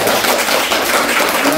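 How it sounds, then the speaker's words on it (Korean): An audience applauds steadily to welcome a guest professor introduced at a lecture on reading in the age of AI: dense, even clapping that fills the whole moment without any talk over it. "큰 박수로"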